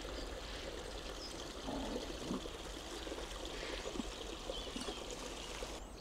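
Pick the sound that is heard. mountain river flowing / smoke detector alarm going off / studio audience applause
mountain river flowing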